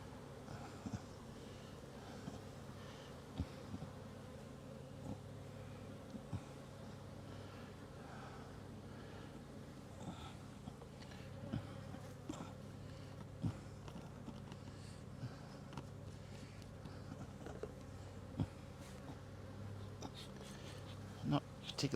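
Honeybees of the Korora colony hum steadily around an open hive, a continuous low drone with occasional closer passes and faint handling noises, while a person speaks intermittently nearby.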